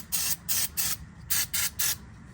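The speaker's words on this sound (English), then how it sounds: "I'll just spray off that little bit of oil right there" Short hissing bursts of spray clean away a bit of oil during a car oil change: six quick, evenly spaced spritzes in two groups of three, fairly close and crisp.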